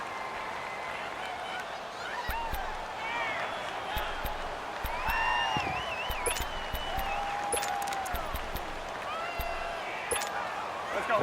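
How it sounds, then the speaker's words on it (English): Stadium crowd noise in the Madden NFL 19 football video game: a continuous roar of cheering fans with scattered whistles and shouts, steady and fairly loud, while a commentator's voice talks over it. "The crowd's not doing that O-line any favors."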